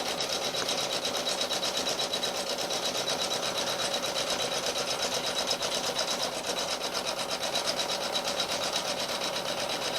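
Embroidery machine running a bead stitch around a lace applique, a steady, fast mechanical needle chatter that holds constant and close throughout with no talking.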